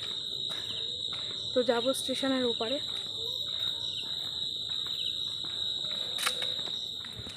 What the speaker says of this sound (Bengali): চারিদিকে ঝিঝি পোকার ডাক আমাদের গ্রামে।